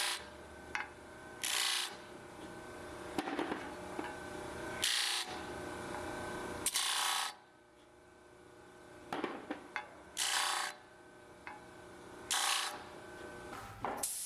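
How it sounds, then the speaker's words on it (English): Bursts of hand sanding on the entrance pipes of a wooden Tegart nuc box, removing burrs, come in short scratchy strokes separated by quiet gaps over a low background hum. "here we're just sanding the burrs out of the entrance pipes"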